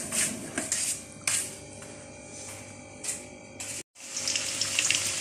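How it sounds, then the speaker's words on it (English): Chips frying in hot oil for breakfast, a steady close sizzle and bubble with small crackling bursts and one brief dropout, no voices. "Our chips is frying."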